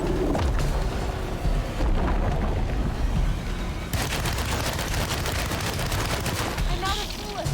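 Gunfire in the horror video game Alone In The Dark: a dense run of rapid, loud shots with rumbling echoes, continuous over several seconds amid heavy game noise, with voices talking faintly underneath.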